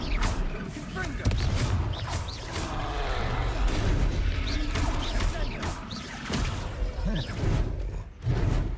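Confringo blasting spells explode in a wizard video game during a fight with a troll, a busy stream of crashes, whooshes and booms with voices speaking over it.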